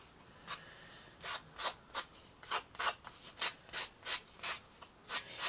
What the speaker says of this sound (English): Take my sander and just round off the ends a little bit.